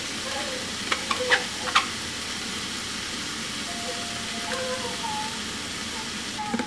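Meat frying in a pan with taco seasoning mixed in, giving a steady close sizzle with a few sharp clinks of a utensil stirring early on and no talk.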